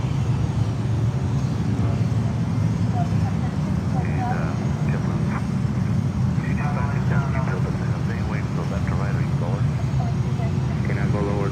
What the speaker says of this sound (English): And now the 757 is lining up.